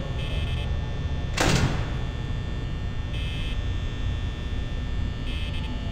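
A door in a FNAF fan game shuts with one short, sharp thud partway through, over a constant electrical hum and a faint intermittent buzzing.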